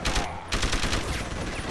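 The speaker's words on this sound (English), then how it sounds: "Shots coming from thin air." Gunfire in the video game Deus Ex: Human Revolution, a rapid burst of shots with dense, continuous crackle through the whole moment, loud and close, with no talk over it.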